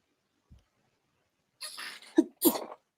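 A single sharp sneeze bursts out in a quiet room, preceded by a brief intake of breath and followed by a second short explosive burst, close and loud with no talk over it.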